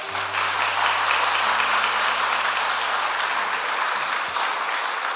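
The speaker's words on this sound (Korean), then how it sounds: "큰 박수 하겠습니다." A church congregation bursts into sustained, dense applause that stays full and even for several seconds, with a low organ or keyboard tone held beneath it.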